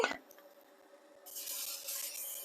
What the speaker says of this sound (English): So I'm going to give it a spray.